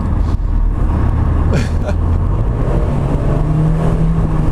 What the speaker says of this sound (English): it certainly has more torque than the MX-5, just accelerating right there